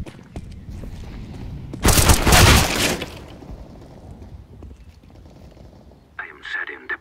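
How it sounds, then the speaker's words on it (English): A grenade detonates in Counter-Strike: Global Offensive, a loud roaring blast lasting about a second amid quieter game ambience and footsteps, followed later by a short burst of other in-game noise. "Throwing a grenade."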